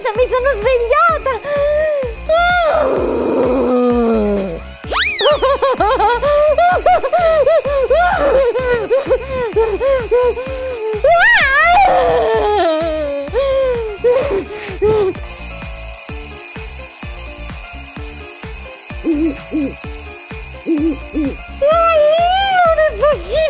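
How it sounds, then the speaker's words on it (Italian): A toy alarm clock rings loudly and keeps going for over twenty seconds, a shrill continuous jangle, with cartoonish Italian voices talking and exclaiming over it. "perché non spegni la sveglia?"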